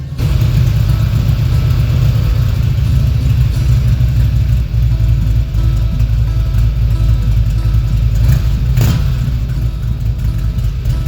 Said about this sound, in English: this engine sounds way better now. No more ticking.